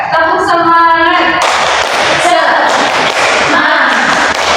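A voice counts in, then a school class breaks into loud, fast rhythmic clapping in a patterned spirit-clap beat, with some voices chanting along.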